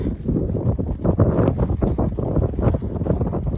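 Steady wind buffets the microphone in loud, rumbling gusts on a coastal walk between Thornwick Bay and Filey, with some faint clopping in the background.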